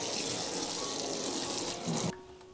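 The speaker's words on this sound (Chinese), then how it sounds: "这是第1次冲洗豆子，" Tap water runs steadily over mung beans being rinsed for sprouting, a continuous close splashing rush that cuts off abruptly near the end, leaving only a faint low hum.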